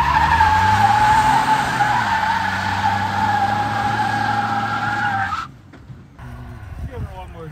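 A Ford F150 pickup hitched to a trailer attempts a burnout, its tires squealing loudly and steadily over a droning engine for about five seconds before the noise cuts off abruptly, leaving quieter rumbles and faint voices.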